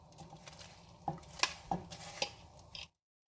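Sweet corn going into a simmering pot of chicken soup, then a spoon stirring it, with soft scrapes and several sharp metallic clinks against the pot before it stops abruptly.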